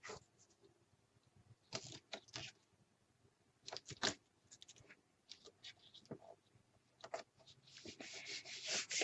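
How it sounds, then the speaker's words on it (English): Tape being burnished down onto chipboard while assembling a paper-crafted mini album, giving soft intermittent rubbing and scraping strokes in short bursts, close and fairly quiet. "And then you can burnish that in."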